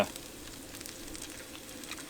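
Food sizzles and crackles softly in a pan at a bush campsite, a faint continuous frying hiss with small pops, no voices.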